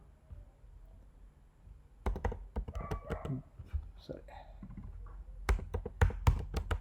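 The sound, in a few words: typing on a computer keyboard while editing a Dockerfile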